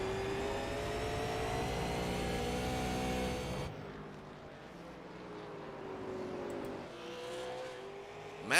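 Race cars lap a short oval in a crooked line racing event, a loud steady engine drone passing close, then easing into a more distant, lower roar as the field circles the track.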